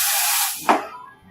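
An espresso machine steam wand hisses loudly and steadily, then cuts off with a short burst and fades into quieter background noise.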